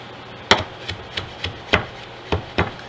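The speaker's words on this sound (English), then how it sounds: "Chop up my parsley" Knife chopping parsley on a cutting board: seven sharp taps at an uneven pace, close and clear against a quiet room.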